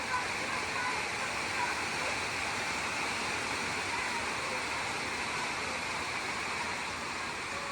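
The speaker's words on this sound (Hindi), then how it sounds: "भाई आवाज सुनो बारिश की," Heavy rain pours down in a constant dense roar, loud and unbroken throughout, with no pauses.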